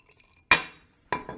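Glasses clink twice as J.P. Wiser's Deluxe whisky is poured into an extra glass, two sharp glassy knocks about half a second apart, close and fairly loud with no talk.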